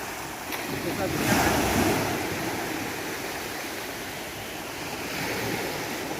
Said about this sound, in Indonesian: ombak saling berkejar-kejaran